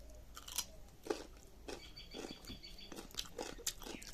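Raw beetroot pieces dipped in salt being chewed up close, a quiet run of crunchy bites and wet mastication with irregular louder crunches and no talking.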